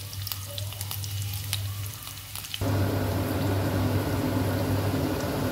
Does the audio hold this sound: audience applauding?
no